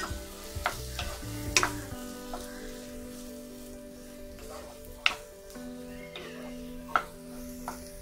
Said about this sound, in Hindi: अर्धा चमचा तेल तापलाय, ब्रेड घालून घेऊया, ढवळून घेऊया।